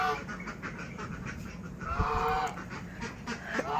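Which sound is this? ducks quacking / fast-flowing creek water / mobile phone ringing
ducks quacking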